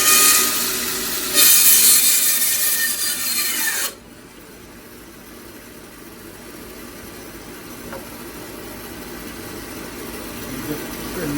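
A split Himalayan cedar blank is trimmed for woodturning, making a loud, harsh cutting rasp for about four seconds that stops abruptly and leaves quiet workshop room tone.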